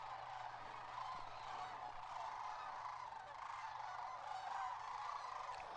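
A large flock of geese calls and honks from a distance in a continuous, dense wash of overlapping cries, with faint rushing wind underneath and no speech.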